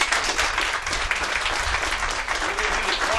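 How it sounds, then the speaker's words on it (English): A crowd applauds at a Veterans Day 22 Kill push-up challenge event, a steady, dense roll of clapping from many people, fairly near and continuous throughout. "Let's give another round of applause."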